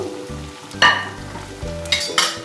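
White sesame fritters frying a few at a time in hot oil over a low gas flame, with a steady close sizzle and brighter crackling bursts as batter drops in and oil is spooned over the top.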